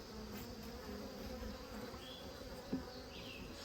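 Honeybees in rescued hives building new comb, a steady close buzzing drone from many bees with occasional louder passes of individual bees near the microphone.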